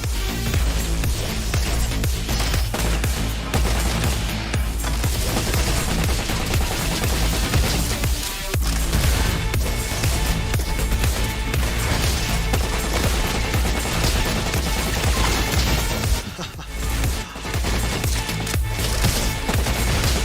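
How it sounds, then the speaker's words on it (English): Futuristic light-gun fire in a space flight video game, a dense and loud continuous barrage of rapid shots with hardly a pause. "Sometimes it feels like I'm in some space arcade when I play this game, using some kind of futuristic light gun."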